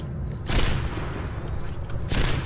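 Widowmaker sniper rifle fire in Overwatch on the Dorado map, two loud booming shots about a second and a half apart over constant game noise, with no talking.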